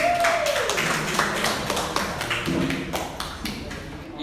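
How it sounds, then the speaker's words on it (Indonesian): A few scattered hand claps from a classroom audience greeting a presenting group, sparse and irregular rather than a full ovation, mixed with voices talking throughout. "Tepuk tangan dulu."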